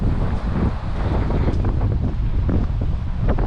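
Strong, gusty wind roars across an open hillside above Matlock Bath, buffeting the microphone continuously at close range with no pauses.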